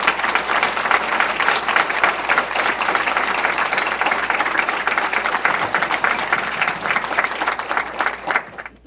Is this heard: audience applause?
yes